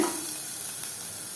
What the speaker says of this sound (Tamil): இப்போ வெங்காயம் வதக்கியாச்சுங்க